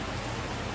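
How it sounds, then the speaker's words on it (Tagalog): Heavy rain pours outside, a dense, even hiss of water hitting surfaces that stays loud and constant throughout with no other sounds. "Ulan ng ulan oh."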